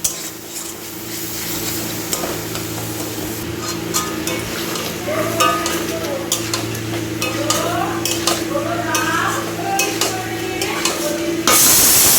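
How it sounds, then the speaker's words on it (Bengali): A ground spice paste with turmeric fries in hot oil in a pan, a loud continuous sizzle with stirring and scraping throughout, and a brief burst of noise at the end. "মশলাটাকে পুরো পেস্ট করে নিয়েছি এখন এটাকে এবার এখানে এই যে তেলের মধ্যে দেবো"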